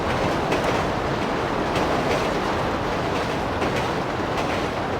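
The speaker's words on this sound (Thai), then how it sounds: "อ๋อรถไฟขนของ" A freight train rolls past close by, a loud, steady roar of wheels and wagons with faint rhythmic clacking throughout, no voices.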